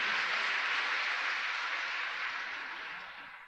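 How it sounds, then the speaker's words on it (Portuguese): An audience applauds in one dense, steady wash of clapping that gradually fades toward the end, with no voices over it. "É o povo inteiro te aplaudindo"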